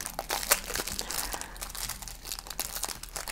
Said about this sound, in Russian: Обычный пакетик.